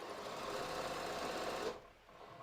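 A sewing machine runs steadily along the seam of yoga pants stitched with SeraFlex thread, a close, continuous whirring hum that cuts off abruptly near the end, leaving a quieter lull.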